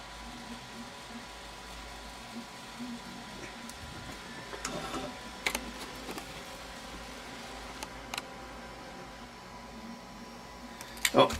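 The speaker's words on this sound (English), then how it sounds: "Oh, sounds like the printer is done printing." An office printer winding down at the end of a print job, a low steady mechanical hum with scattered soft clicks and taps, indoors, with a louder clatter near the end.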